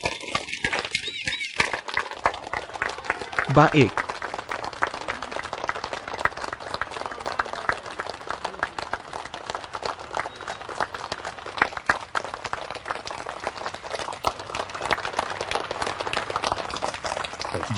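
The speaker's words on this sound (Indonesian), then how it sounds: "Semuanya lihat, pengantin baru kita datang. Tepuk tangan." Guests at a wedding celebration clap for the arriving newlyweds, a dense, steady patter of many hands sustained throughout, with a brief voice near the start.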